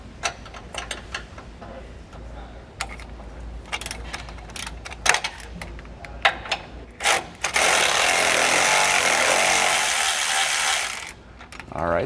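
A mechanic works an 18 mm wrench on the inside nut of a bolt on a Roadmaster front anti-sway bar mount on a 2015 Winnebago Vista motorhome, giving a run of close, sharp ratcheting clicks and then a long, steady burst of tool noise.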